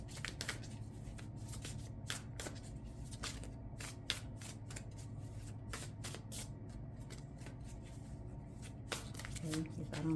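Tarot cards are shuffled by hand in a steady run of crisp riffling flicks and soft slaps, close and fairly quiet, with a voice talking faintly underneath.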